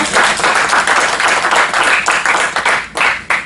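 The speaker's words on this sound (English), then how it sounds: "let's give him a round of applause for his service in Iraq" A room full of people claps steadily for a military veteran at a federal contracting event, a dense, even wash of applause with a few louder individual claps near the end and no talking.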